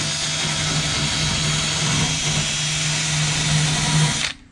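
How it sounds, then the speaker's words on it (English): A cordless die grinder whines steadily and loudly at close range while cleaning a 1961 Pontiac Laurentian fuel tank, running continuously before cutting off at the end. "I'd run an airline out here with a die grinder, but the cordless is just easier and faster."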